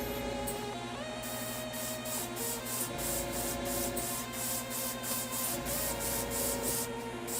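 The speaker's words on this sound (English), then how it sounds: "Always like to do a little bit of a test spray on something" Paint spraying onto a test surface during miniature painting for a Nemesis Claw Kill Team: a steady, close hiss runs throughout, with regular faint pulsing bursts layered over it.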